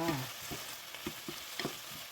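Rice with egg and pork being stir-fried in a pan, with soft scraping stirs repeating every half second or so over a faint steady sizzle, close and quiet.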